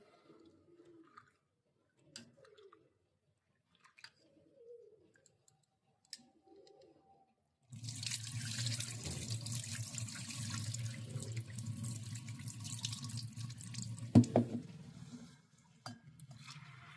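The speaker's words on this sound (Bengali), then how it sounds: "এই ডালগুলোকে আমি খুব ভালো করে ধুয়ে নিচ্ছি" Soaked lentils are washed under a running tap: after several quiet seconds of faint clicks and handling noises, a loud steady gush of water into a sink begins and continues to the end, with a sharp clink near the close.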